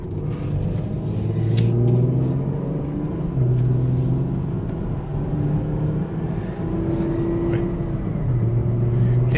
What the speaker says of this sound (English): See, that's how it shifts into the third gear.